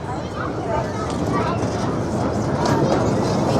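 A Morgan roller coaster train at Seabreeze Amusement Park rumbles along its track, a dense, continuous roar with rattling that grows slightly louder, with a person talking over it nearby.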